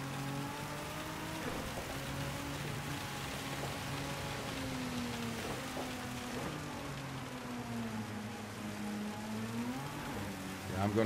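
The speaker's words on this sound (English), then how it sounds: "It's raining too bloody hard, man." Heavy rain in the racing game Gran Turismo 7 during a wet race, a steady dense hiss of spray and downpour layered over a droning car engine that rises and falls.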